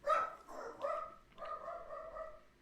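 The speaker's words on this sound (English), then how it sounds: "I don't know what the hell he's barking at." A dog barks several times in quick succession, fairly close and clear, with short gaps between the barks and no talking.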